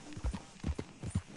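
Horse hooves gallop in Red Dead Redemption, a steady rhythmic clip-clop of repeated hoofbeats, close and moderately loud, with no talking.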